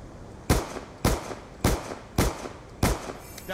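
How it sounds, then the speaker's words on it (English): Five rifle gunshots in Black Ops 2 hardcore mode, fired in a steady rhythm about half a second apart, each a loud punchy crack with a short reverberant tail. "Then 3 shots at that range."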